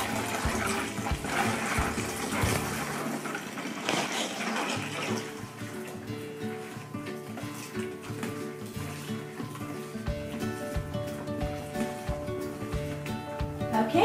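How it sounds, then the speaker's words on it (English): Water from a gallon jug is poured slowly into a soapy homemade laundry detergent mixture, giving a continuous gushing, splashing flow that shifts in tone partway through, with no speech. "slowly pour in 2 gallons of water. So I've got the first gallon going here."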